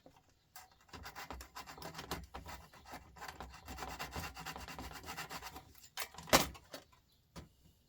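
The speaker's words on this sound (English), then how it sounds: "I'm going to give it a little scrape with a foil and see what it is" Scraping the metal contacts of a circuit board inside a JVC video player with foil, a steady rough rubbing rasp lasting several seconds, close up and alone, ending with a couple of sharper scrapes.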